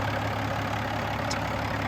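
A 2007 Peterbilt 386 truck with an older pre-emission diesel engine idles steadily nearby, a constant low, even rumble with a faint hum and no voices over it.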